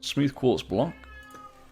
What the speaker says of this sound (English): That was a cat, by the way. That noise,